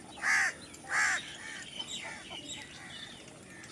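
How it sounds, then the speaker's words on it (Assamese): Crows caw over rain-flooded village fields where ducks graze, two loud, close caws in quick succession followed by fainter, scattered bird calls against a quiet outdoor background. "কাউৰীয়ে কা কা কৰি আছে।"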